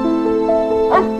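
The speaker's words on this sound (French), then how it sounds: "Pourquoi il aboie comme ça, ce chien?" A dog, the prisoner's dog in the film Le Collier rouge, barks once briefly over a steady sustained tonal background.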